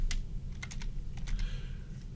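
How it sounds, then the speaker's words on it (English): Quick bursts of typing on a computer keyboard during a morning stock and options market prep session, several clusters of keystrokes over a low steady room hum, close and moderately loud. "I cannot type this morning."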